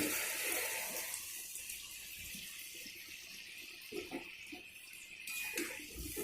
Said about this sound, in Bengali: এবার আমি সেদ্ধ করা আলুগুলো জল সমেতই দিয়ে দেবো